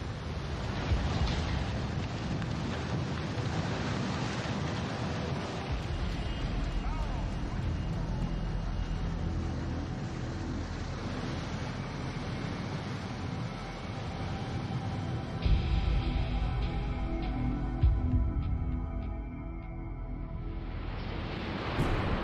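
Tsunami waves crashing onto the Japanese coastline, a continuous loud, dense roar of surf and rushing water with wind buffeting, steady throughout with a few heavier surges and faint voices beneath.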